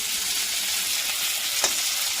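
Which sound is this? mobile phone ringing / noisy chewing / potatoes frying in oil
potatoes frying in oil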